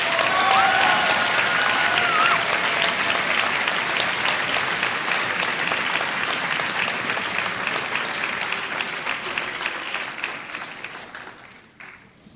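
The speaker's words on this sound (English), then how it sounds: "One more applause for all of our seniors." An audience at an orchestra senior night gives sustained applause, thick clapping with a few brief voices early, gradually thinning and fading out over about twelve seconds.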